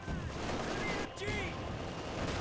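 Heavy machine gun fire in Company of Heroes 2 rattles on steadily beneath constant battlefield noise, a dense continuous wash with a brief dip midway.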